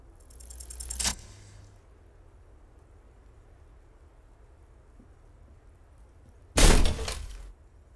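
A small, heavy door breaking open in a video game: two loud cracking crashes, one at the start and another near the end, separated by a long stretch of quiet low rumble.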